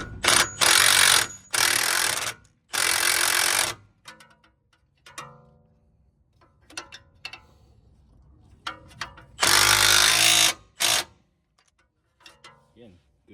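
An 18 mm wrench tightening a nut during a billet vertical arm install, heard as bursts of loud ratcheting separated by quiet pauses, with small metallic clicks and handling noises in between.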